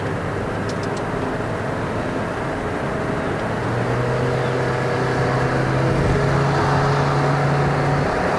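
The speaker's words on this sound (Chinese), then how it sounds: "这样它 S mode 已经把那个转速维持在大概3000转，随时让你去加速。" Perodua Myvi 1.5L D-CVT engine held around 3000 rpm in S mode, a steady droning hum inside the car on a mountain road, rising slightly in pitch and volume midway through.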